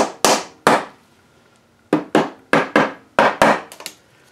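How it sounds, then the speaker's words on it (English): Rubber mallet tapping a transmission case on a K-series final drive install to seat it against a held-open snap ring: a dozen or so sharp, close knocks in two quick clusters separated by a short pause. "grab a rubber mallet, hold in the snap ring open, give it a couple more taps just to try to get it seated as close as possible"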